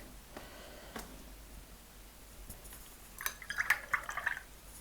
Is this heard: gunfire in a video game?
no